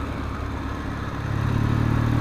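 A motorcycle engine running steadily while being ridden, a loud close droning rumble that swells slightly toward the end, with no voices.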